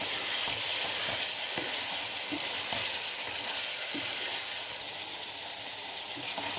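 Cauliflower pieces fry and sizzle in a pan with cumin seeds and salt while a spoon stirs them, a steady broadband hiss with soft scraping strokes throughout, close and fairly loud, no talking.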